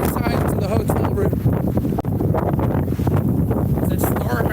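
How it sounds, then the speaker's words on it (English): Strong, roaring wind batters the microphone during a storm on the Blackpool seafront, with continuous loud gusts and buffeting throughout and a voice speaking underneath. "The wind has just picked up so bad."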